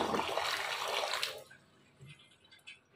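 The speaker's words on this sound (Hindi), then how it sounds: "इस तरह से इसके अंदर पानी को डाल देंगे कास्टिक सोडा वाला।" Water mixed with caustic soda is poured into a clogged sink drain, a loud, dense rushing gush that stops abruptly partway through, leaving faint trickles and drips behind.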